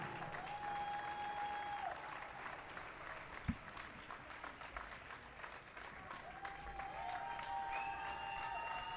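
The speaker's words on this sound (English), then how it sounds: "Let's have a big round of applause for all of our women 13-14 points racers." Audience applause for the women's 13-14 points race riders at the 2019 Junior & Elite Track Nationals, a steady wash of clapping from a crowd lasting throughout, with faint arena sounds beneath.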